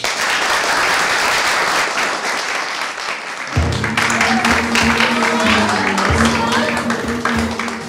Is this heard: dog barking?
no